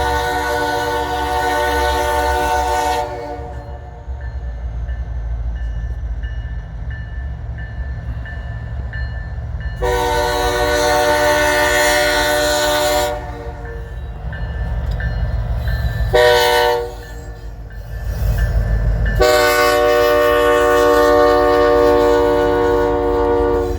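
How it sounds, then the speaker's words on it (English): An eastbound double-stack freight train rolls past in Fremont, Nebraska, in January, its loud rumble constant throughout while the horn sounds in several long blasts, near and strong, with short gaps between them. "Eastbound stack train, which is going to follow, actually it's going to pass that unit train here"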